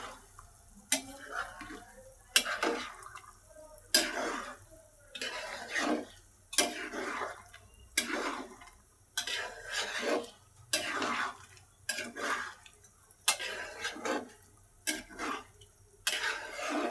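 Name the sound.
stirring beef in a pan while cooking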